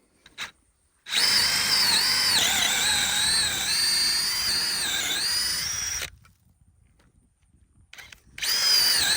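A power drill runs loud and steady for about five seconds as it bores through a vineyard post for muscadine trellis wires, with a brief burst before and another starting at the end.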